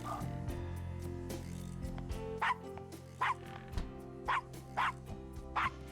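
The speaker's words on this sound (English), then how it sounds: "that dog is barking, but its lips ain't moving" Dog barking in the Gabriel Knight: Sins of the Fathers 20th Anniversary Edition video game, cemetery scene: five or six sharp, evenly spaced barks ring out over a steady game backdrop.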